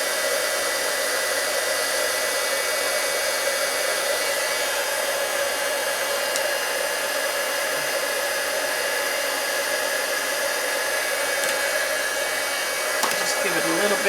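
Heat gun heating a Shrinky plastic Christmas ornament, a loud, steady hiss and blowing whine that runs unbroken at close range, with faint handling noises near the end.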